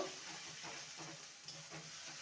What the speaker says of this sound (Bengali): এবার আদা, কাঁচা লঙ্কা, টমেটোর পেস্টটা দিয়ে দেবো। করে কষিয়ে নেব।